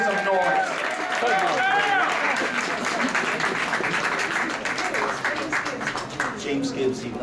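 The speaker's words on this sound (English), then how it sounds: "Let's have a nice round of applause, ladies and gentlemen." Audience applause at the Atlantic City Boxing Hall of Fame gala, a dense, sustained wash of clapping and crowd noise, with a voice calling out over it near the start.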